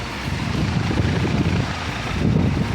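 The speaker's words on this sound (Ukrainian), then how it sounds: "Злітає якийсь вертоліт." Helicopter taking off at an aircraft museum in Australia, a continuous low rumbling roar heard outdoors from some distance, mixed with wind buffeting the microphone and no talk.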